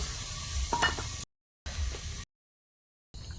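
Fried lentil dumplings (bori) dropped into a simmering curry, soft bubbling and stirring with a brief metallic clink, in short bursts split by silent gaps.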